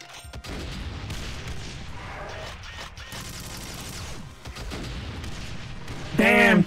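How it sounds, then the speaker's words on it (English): Seeker missiles and gunfire in the Doom mod Complex Doom, a dense, continuous barrage of shots, rocket launches and explosions with a loud burst near the end. "Damn, the seeker missiles are so good!"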